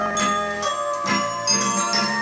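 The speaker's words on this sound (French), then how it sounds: "J'entends des cloches qui sonnent." Bells ring in a bright, sustained peal with several overlapping strikes, loud and close, with no voices over them.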